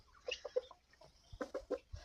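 Several chickens cluck in short, close bursts, a pause in the middle, then a quicker run of clucks.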